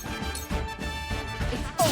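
A Sound Strike attack from the video game Triangle Strategy lands as a sharp smashing crash near the end, over a continuous bed of layered game music and effects.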